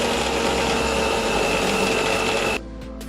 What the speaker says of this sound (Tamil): ஃபர்ஸ்ட்டு நான் வந்து போர்பன் பிஸ்கட்டை எடுத்து மிக்சியில் அரைச்சி வச்சுக்க போகிறேன்